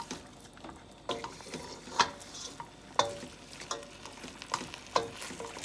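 A macaroni and chicken stew with green onion is stirred in a pot. The spoon clacks and scrapes at a slow rhythm, about once a second, over a soft, quiet simmer.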